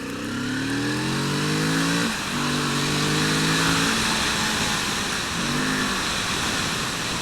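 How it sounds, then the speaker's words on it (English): A Kawasaki Z650 RS motorcycle engine revs up and down in several rising and falling bursts, loud and close, with a steady mechanical drone between revs. "It's happier when you're revving it up than it is when you're going in low revs."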